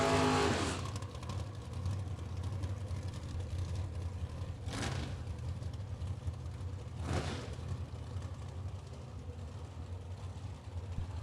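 Drag racing cars at the 30th World Super Pro Challenge, a big block Chevrolet with a small blower and a 1968 Chevy Camaro, rumble loudly and steadily, with two sharp bursts of engine noise standing out midway.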